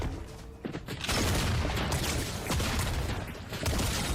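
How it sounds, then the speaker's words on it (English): Shotgun blasts in a chaotic PS5 video game battle, a dense, continuous barrage of booming gunfire and mechanical clatter that stays loud from start to finish. "Gosh, this shotgun kind of sucks compared to the dualies."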